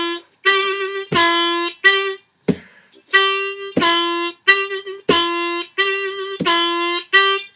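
A blues harmonica plays a series of notes bent downward, sharp separate blown phrases repeating with brief gaps, loud and close, alone without voices.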